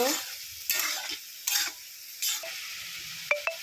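Mixed vegetables seasoned with coriander powder are stirred in a frying pan for a vegetarian sabji with bori, several rhythmic scraping strokes over a low sizzle, ending with a couple of bright metallic clinks.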